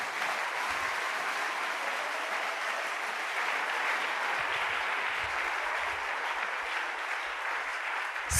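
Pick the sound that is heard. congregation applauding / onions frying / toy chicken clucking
congregation applauding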